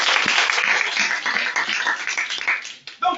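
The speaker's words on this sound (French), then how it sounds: "On acclame d'abord." A church congregation applauds in a steady, dense wash of clapping, loud and close, fading briefly near the end before a final burst.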